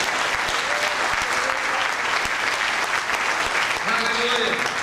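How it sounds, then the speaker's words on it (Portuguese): Congregation applauding during a Sunday evening church service, a sustained, steady wash of many hands clapping that fills the room, with voices and cheers rising over it near the end. "Alguém pode aplaudir ao Senhor aqui?"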